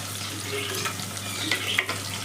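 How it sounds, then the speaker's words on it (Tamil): Curry leaves crackle and sizzle in hot oil for an eggplant curry, a steady, fairly soft frying hiss with a few brighter pops near the end. "கொஞ்சம் கறிவேப்பிலை எடுத்து ஆட் பண்ணிக்கலாம்"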